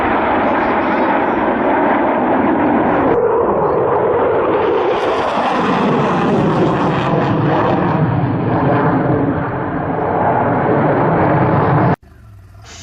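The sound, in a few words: Red Arrows and RAF Typhoon jet at air festival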